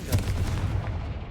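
A Confringo blast spell cast in the video game Hogwarts Legacy lands as a single heavy, booming burst that quickly tails off into a rumbling decay.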